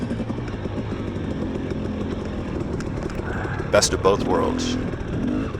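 Dirt bike engine at a hare scramble race, a steady low drone running beneath talk throughout, with a brief louder rev burst near the end.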